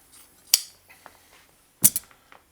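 Scissors snip through herringbone webbing on a Danish side chair, two sharp close cuts about a second apart with faint handling noise between.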